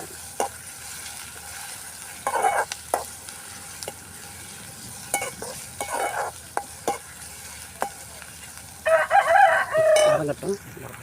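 Chicken roll filling with ginger sautéing in oil in a pan, a soft steady sizzle broken by intermittent scraping stirs, with a louder burst of stirring near the end.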